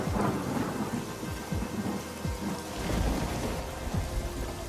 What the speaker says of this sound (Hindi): और बारिश शुरू हो गई